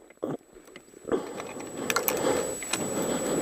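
A Jianshe JS125-6C 125cc motorcycle, already hot, is started after a few light mechanical clicks, its engine catching and building into a steady, rising running note close by.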